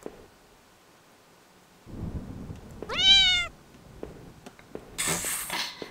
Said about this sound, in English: Okay, just a cat.